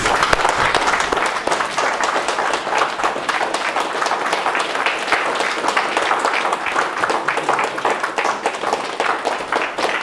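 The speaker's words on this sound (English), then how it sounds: "give this guy a huge round of applause" Standing audience at a community drama show giving a performer a huge round of applause: dense, continuous clapping from many hands, steady and loud for about ten seconds.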